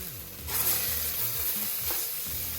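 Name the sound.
butter sizzling and being stirred in a pan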